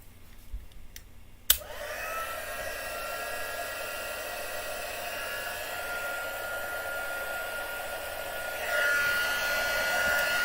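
A craft project's wet paint is blasted with a hair dryer, which clicks on and roars as a steady close whoosh of air, its pitch shifting brighter near the end as the dryer is moved.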